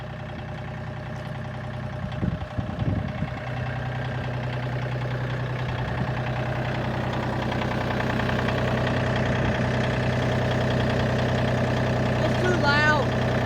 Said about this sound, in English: Oh, I'm gonna have to move the tractor.